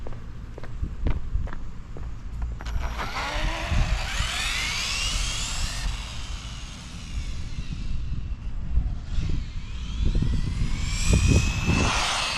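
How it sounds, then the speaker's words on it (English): A Traxxas 1/16 Slash RC truck fitted with an oversized 4S motor, its electric whine rising and sweeping in pitch as it runs past outdoors, with scuffing and crunching from the ground. "1/16 scale slash 4S 8-scale motor. Oh yeah, she gonna go."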